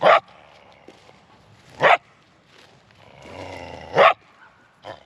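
A pad-caught coyote yips and barks in sharp bursts, several loud cries spaced across a few seconds with softer whining between, outdoors during breeding season.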